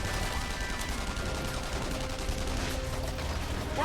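Dense gunfire in the video game The Saboteur, sustained and continuous across the moment, loud and close with a steady rumbling battle bed beneath it.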